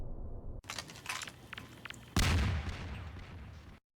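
A big explosion in the Source Engine video game Interloper, with booming gunfire-like bursts and a sudden loud blast partway through that cuts off abruptly near the end.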